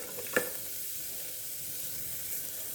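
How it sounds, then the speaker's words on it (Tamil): Small onions (shallots) sautéing in a pan for millet porridge give a faint, steady sizzling hiss throughout, with one brief clink near the start. "ஒரு 10 சின்ன வெங்காயம் சேர்த்துக்கலாம். இதை வதக்கலாம்."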